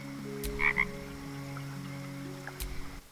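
A frog croaks in the video game Baldur's Gate 3, two short croaks near the start and another near the end over a quiet, humming game backdrop with sustained tones.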